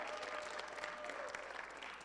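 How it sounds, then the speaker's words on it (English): An audience at a drama group's staging of The Story of Job claps for a cast member, a short burst of dense, continuous applause from many hands, with faint voices mixed in. "Give him a round of applause"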